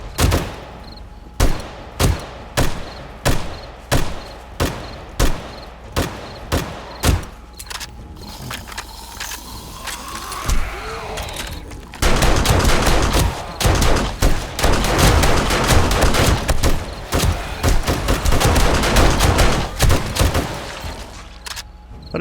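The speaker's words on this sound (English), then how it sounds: "I don't even really need to be shooting these guys." Gunfire aimed at zombies in 7 Days To Die on day 70: loud, evenly spaced single shots at first, then a denser stretch of rapid, overlapping firing that continues to the end.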